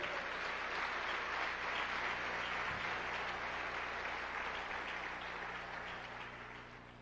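A church congregation applauds in a sustained, dense wash of clapping that holds steady and then slowly fades toward the end.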